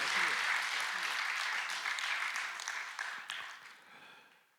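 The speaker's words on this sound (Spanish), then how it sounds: "Si le dan un aplauso a Jesús, déselo con muchas ganas." Church congregation applauds during a sermon, a dense, steady roll of clapping hands that holds strong for a few seconds and then fades out toward the end, with faint voices beneath it.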